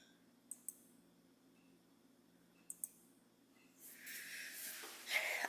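Mouse clicks on an on-screen sign in The Odyssey escape room game, two pairs of quick sharp clicks spaced a couple of seconds apart over a quiet background, followed by a brighter swelling sound.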